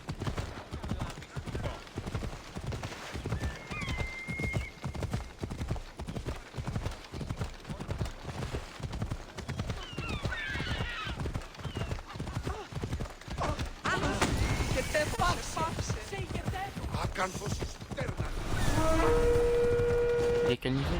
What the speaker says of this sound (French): En avant, Phobos! Ben moi, je le sers.